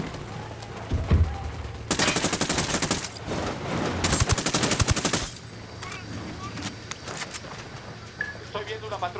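Bursts of automatic gunfire in the video game Ghost Recon Wildlands: two long, loud rattling volleys in quick succession, with scattered shots and in-game ambience between them.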